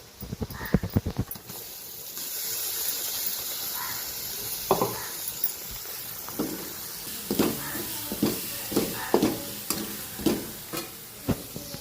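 Ground spice paste sizzles steadily in a kadhai with onion and spices while a spoon scrapes and stirs, producing irregular clacks and knocks, loudest in quick bursts near the start.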